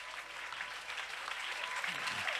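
A church congregation applauding during a Sunday service, steady dense clapping throughout, fairly distant and even, with a faint voice near the end.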